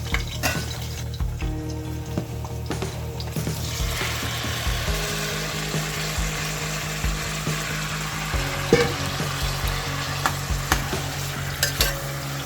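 Tomatoes going into a pan after crappie fish has been fried golden brown, giving a loud, continuous frying sizzle with scattered utensil clinks and scrapes. Up close, with no voices.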